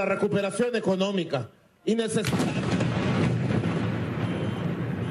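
Recorded at the alleged drone attack on a head of state: someone speaks over amplified sound, the audio briefly cuts out, then a sudden loud blast gives way to a sustained, noisy roar that fills the rest.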